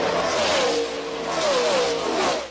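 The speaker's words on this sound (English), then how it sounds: "every time the car passes by, it makes this sound" NASCAR race car speeding past with a high engine whine whose pitch slides audibly downward as it goes by, a brief close pass rising and fading out within a few seconds.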